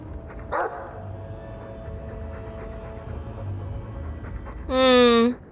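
A Mabari war dog in the Dragon Age 2 video game pants steadily in the foreground, then lets out a loud, drawn-out bark near the end, with faint talk from the game in the background.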